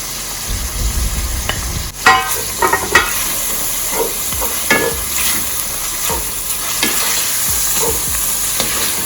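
Peppers sizzling as they are stirred into a hot frying pan with saltfish, giving a loud, close, steady hiss broken by clattering utensil scrapes, with no talking.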